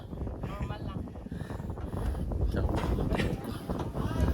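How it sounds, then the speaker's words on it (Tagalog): Blustery wind buffets the microphone in a constant low roar, with voices talking underneath. "Yung hangin kasi, di ba?"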